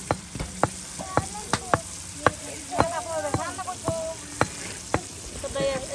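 Spices for a papaya and egg curry fry in oil outdoors by a riverbank, a steady sizzle broken by sharp repeated stirring scrapes and clanks, with bird calls in the background.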